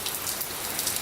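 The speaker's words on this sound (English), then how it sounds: "I just wish this rain would go away" Steady rain falling outdoors on an early afternoon, a continuous even hiss of drops on surfaces with no voices, holding at a moderate level throughout.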